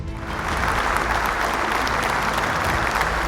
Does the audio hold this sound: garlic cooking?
no